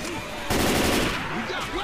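Gunfire in Left 4 Dead 2: a dense, loud burst of rapid shots in the middle, with fainter game sounds before and after and no clear talk.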